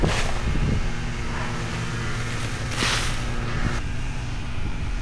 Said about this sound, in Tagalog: medyo malakas ang hangin eh